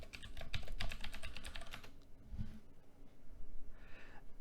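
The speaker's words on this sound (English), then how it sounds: "we're going to type in our password" Password being typed on a computer keyboard while logging into Windows Server 2012 R2: a quick run of close, crisp key clicks for about two seconds, then a quieter stretch with faint room noise.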